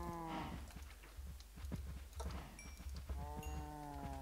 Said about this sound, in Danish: Jeg prøver jo at få køerne til at få flere køer.